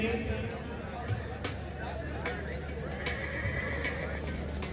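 A horse neighs loudly at an outdoor tent pegging event, standing out over a constant murmur of crowd chatter and other field noise.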